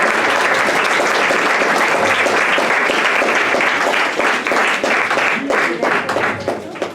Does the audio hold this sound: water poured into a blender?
no